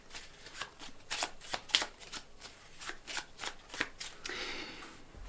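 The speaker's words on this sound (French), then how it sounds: "Je vais mélanger les cartes pour vous prouver que je ne triche pas." Playing cards riffled and shuffled by hand in a quiet room, a series of crisp, rapid fluttering bursts at a steady rhythm, close and fairly soft, with no voices.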